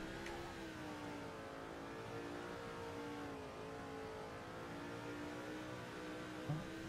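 A race car engine in NASCAR 06 on the Daytona road course holds a steady, loud drone for the whole stretch, its pitch rising and dipping slightly as the car is driven, with a faint knock near the end.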